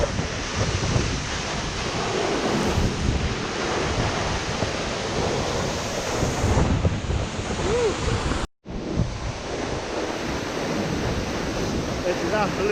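Aber Falls (Rhaeadr Fawr) waterfall roars up close in a dense, continuous rush mixed with wind buffeting the microphone, broken by a brief dropout.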